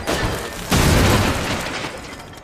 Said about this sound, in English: It's a really small explosion.